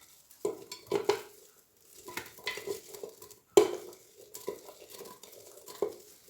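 Onion and garlic frying in a pot for a Moroccan rfissa with chicken, stirred in bursts of scraping and clinking against a low, steady sizzle, with no voices.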